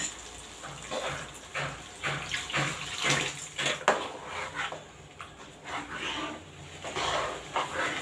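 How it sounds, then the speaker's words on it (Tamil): Water pours and sloshes into a pot of milagu kulambu, a pepper curry, in uneven splashy bursts, close by, with no voices. "இதுக்கு தேவையான அளவு தண்ணி விட்டு மிக்ஸ் பண்ணிக்கோங்க"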